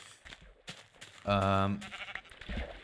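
A single sheep bleat from the game Minecraft, one short wavering call at moderate volume, heard among quiet background sounds and faint voice activity.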